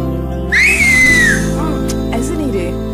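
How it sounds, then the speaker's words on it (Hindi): A person whistles loudly using a finger and tongue, a single rising shrill note that holds and then falls away, with background noise and music underneath. "अब बजी ना सीटी।"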